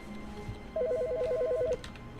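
A telephone rings in The Stanley Parable, a steady burst of rapid warbling electronic tones lasting about a second over quiet room ambience, with no talking.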